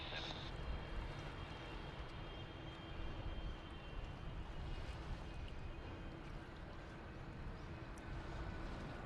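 Airbus A330-900 airliners at Sydney Airport give a steady, broad jet engine roar that holds throughout, with air traffic radio voices talking over it.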